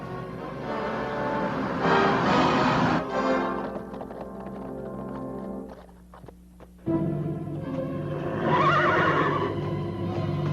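Horses neigh and whinny loudly over steady hoofbeats and outdoor commotion on a 1949 Gene Autry Western soundtrack, with a brief lull before the noise surges again.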